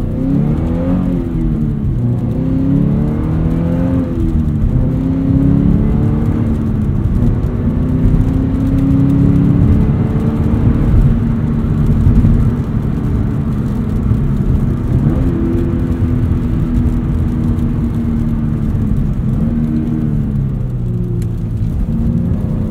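A Subaru BRZ fitted with new Cosworth brake pads and a Corsa replacement muffler drives along a road, its engine droning and shifting pitch steadily with road rumble throughout, loud and close inside the cabin.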